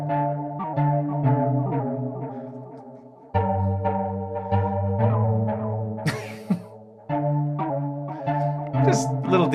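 Tonal, repeating notes run through a Space Echo tape delay plugin, with chorus-like echoes and warbling decay. Sudden drops and bursts of noise come as the playhead is touched.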